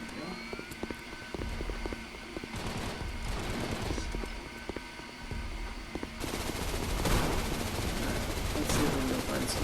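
Rapid bursts of virtual gunfire from a sniper rifle and other weapons in the VR shooter Gun Raiders, crackling steadily through most of the stretch and growing denser and louder toward the end, with no talk.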